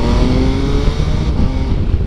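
An MV Agusta Turismo Veloce SCS motorcycle pulls away from a stop without the clutch, its engine loud and close, rumbling and rising as it accelerates.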